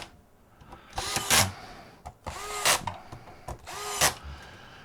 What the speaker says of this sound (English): We'll go ahead and tighten the rest of these screws.